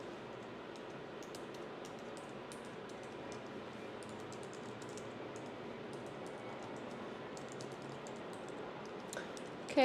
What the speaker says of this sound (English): now you're just going to type in your personal information